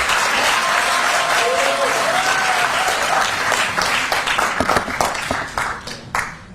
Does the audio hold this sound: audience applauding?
yes